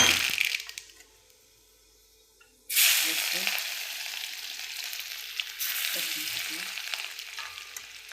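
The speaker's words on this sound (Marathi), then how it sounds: "मोहरी टाकले" Mustard seeds hit hot oil in a pan over a low flame for a Marathi-style vegetable dish, bursting into a loud broadband sizzle that continues steadily, with a second surge of crackling partway through.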